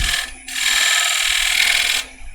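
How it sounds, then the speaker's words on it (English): A 10mm spindle gouge cuts a bead into spinning wood on a lathe, a steady, loud scraping hiss that starts up, holds for about a second and a half, then eases off. "So I've got a 10mm spindle gouge"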